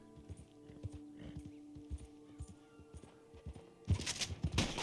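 Horse hooves clip-clopping in the video game Red Dead: a soft, steady walking rhythm of hoof beats, faint and fairly distant, with a louder noisy burst near the end.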